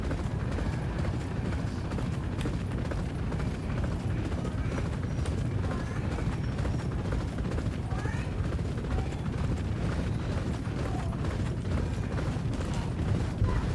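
A racehorse gallops in a horse racing video game, a steady, continuous drumming of hooves with mechanical clatter throughout.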